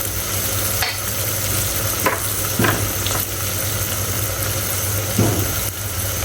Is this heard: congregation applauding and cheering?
no